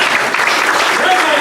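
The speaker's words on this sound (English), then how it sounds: "That's worth clapping for." Audience applause fills a Rotary meeting room, a dense steady patter of clapping that holds at an even level throughout the short burst, with no break or fade.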